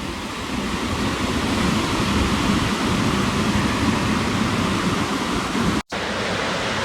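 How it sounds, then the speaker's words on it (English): Ocean surf breaking on the beach at Oberon Bay, a steady full roar of crashing waves and wash, loud and close, with wind in the mix and a brief dropout near the end. "Sick waves though."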